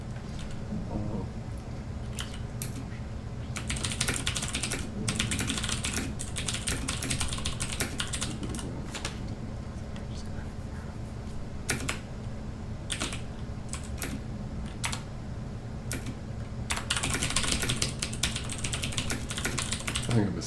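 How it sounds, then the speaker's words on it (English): Loud computer keyboard typing runs in fast irregular clatters with short pauses, close to the microphone, while a voice talks quietly now and then. "I've got a really loud keyboard, sorry."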